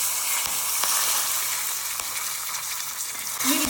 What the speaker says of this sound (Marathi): कढीसाठी तेलाची तुपाची कुठलीही फोडणी करू शकता. मी तेलाची करते.